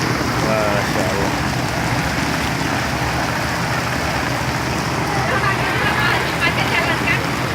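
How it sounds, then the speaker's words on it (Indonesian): Steady rain falls over a congested road during a traffic jam, a dense continuous hiss with the low rumble of idling traffic beneath and faint voices in the background. "Dari tadi hujannya."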